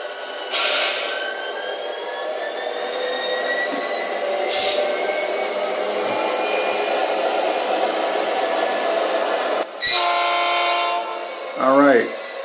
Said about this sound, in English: what I like about these LokSound decoders, there's a very prototypical, realistic delay when you give throttle.